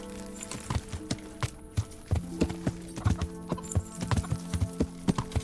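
A horse's hooves clip-clop in Kingdom Come Deliverance, a steady, evenly paced walking rhythm of crisp, close hoof strikes that continues throughout.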